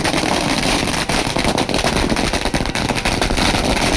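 Firecrackers burst nonstop at a street celebration in Malkapur, a loud, dense crackling barrage of overlapping pops filling the whole stretch without letup.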